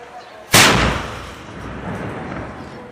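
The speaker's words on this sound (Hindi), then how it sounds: "तोप की आवाज 150 किलोमीटर दूर गांवों तक जाती है।" A ceremonial cannon fires at Ajmer Sharif with a single sharp, powerful boom, followed by a long rumbling decay and echo under faint background murmur.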